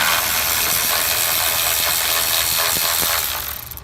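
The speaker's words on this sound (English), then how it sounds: "we're just going to unscrew it" A Milwaukee cordless battery-powered ratchet unscrewing bolts on the radiator fan shroud of a 2003-2007 Honda Accord, whirring loudly and steadily for several seconds before winding down at the end.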